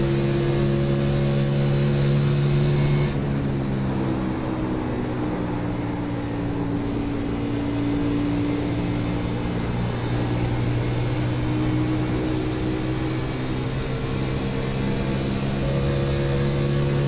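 Race car engine in the iRacing sim at Atlanta, a steady loud drone whose pitch bands climb and fall as revs pick up, running continuously with no voices.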